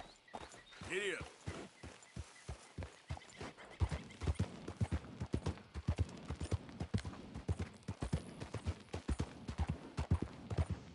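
Horse hooves clip-clop at a steady walking rhythm in the Red Dead Redemption II video game, a clear repeated train of hoof strikes with a brief neigh near the start and talk over parts of it.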